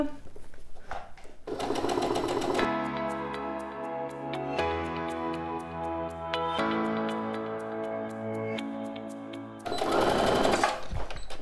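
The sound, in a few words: sewing machine stitching a quilted pouch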